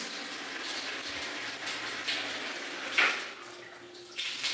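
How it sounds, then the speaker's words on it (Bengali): Water runs steadily from a bathroom tap on a geyser supply line, a soft continuous rushing stream with a slight surge near the end, heard alone without talk. "তো দেখুন ট্যাঙ্কটা ভরে গেছে, এটাতে কিন্তু জল বেরোচ্ছে"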